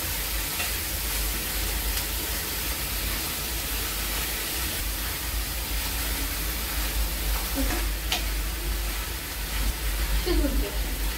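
Peas and cauliflower sautéing in hot oil for kurma puri: a steady, close sizzle with faint stirring scrapes throughout, a few brief clinks near the end.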